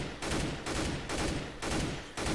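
Bursts of automatic gunfire in Counter-Strike: Global Offensive, four loud sustained volleys separated by brief pauses, close and dominating with no talk over them.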